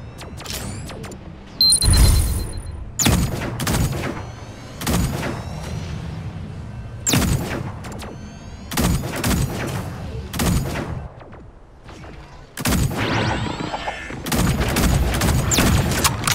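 Gunfire in the mecha shooter Super Mecha Champions: repeated loud bursts of shots in clusters separated by short gaps, with booming impacts and some mechanical clatter between volleys.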